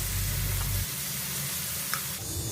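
Steady sizzling of chicken frying in a hot wok, with a brief clink of stirring near the end; no talking.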